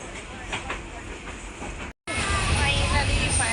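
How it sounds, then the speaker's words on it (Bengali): Passenger train pulling into an airport station on a Kishoreganj to Dhaka run, a steady rumbling clatter and hiss of the carriages, briefly cut silent midway then returning louder and closer. "ফাইনালি এয়ারপোর্টে চলে আসছি এখন ট্রেন থেকে নেমে পড়বো"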